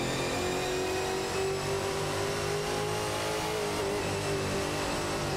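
In a racing video game, a Ford Mustang and a Ford Falcon FG battle closely, their engines giving a continuous loud droning whine that holds steady throughout.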